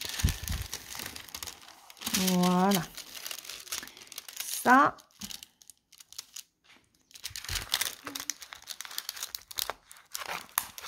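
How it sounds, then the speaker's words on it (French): Paper crinkling and rustling in bursts, handled close up during a diamond painting session, with a woman chatting in French around it. "Je vais déjà me mettre mon petit papier."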